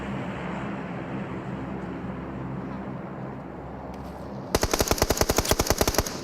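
Automatic gunfire from a PUBG Mobile esports grand final match bursts out in a rapid rhythmic string of loud shots near the end, after a stretch of steady in-game engine and ambient rumble.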